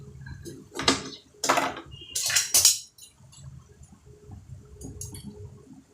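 A knife cutting a lemon, heard as a few close, sharp clicks and scraping strokes against a board in a quiet kitchen, followed by softer faint handling sounds.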